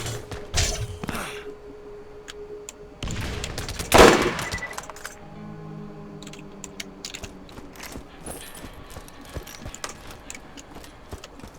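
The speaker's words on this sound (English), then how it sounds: "I hear shooting." Bursts of gunfire in the Borderlands video game crack out in scattered volleys, with a loud cluster of rapid shots in the middle and sparser, fainter pops trailing off around it.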